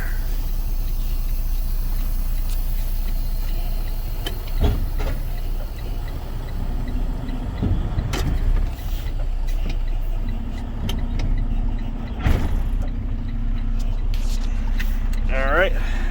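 A semi truck idles and rumbles steadily while backing under a loaded trailer to hook up, with a few clunks and a brief higher whine near the end, all fairly close.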